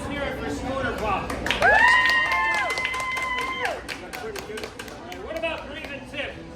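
At Disneyland, an outdoor audience claps and whoops to vote for Schooner Bob. Voices shout above the steady applause, which is loud at first and then thins.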